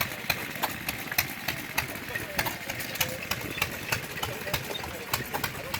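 An antique Yanmar diesel engine being hand-cranked to start at a show, with a steady rhythmic chugging and regular sharp knocks, close by, and people talking over it.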